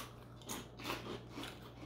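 Someone bites into original wheat puffed shrimp chips, a few close, crisp crunches spaced through under two seconds, quiet and without speech.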